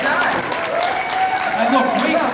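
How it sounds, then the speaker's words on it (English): A crowd at a shopping centre time capsule opening gives a steady round of applause that keeps going throughout, with a voice faintly over it. "Big round of applause for this gentleman."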